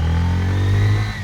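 A motorcycle carrying riders on the way to a camp for a picnic, its engine revving loudly and up close in a steady low drone for a second or so before easing slightly.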